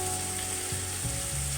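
Chopped tomato and chili powder sautéing in a pan for rasam, a steady close sizzle and hiss with a constant hum beneath and small shifts in low tone, no voices.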